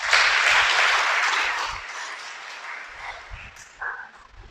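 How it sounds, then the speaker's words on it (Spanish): Audience applause during a motivational talk, a broad burst of clapping that swells at first and then thins out, with scattered voices and a few lingering claps near the end. "Dale un aplauso al Creador."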